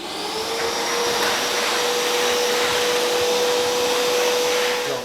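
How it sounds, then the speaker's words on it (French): A vacuum cleaner runs continuously over a floor being prepared for glued parquet, a loud steady whine and rushing airflow close by, alone without speech. "Un petit coup d'aspirateur, ça ne lui fera pas de mal."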